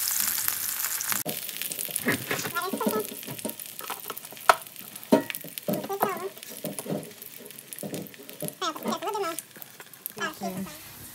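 A birria taco shell dipped in meat juices sizzles and crackles as it fries in olive oil on a hot surface, with steady spattering and someone talking over it.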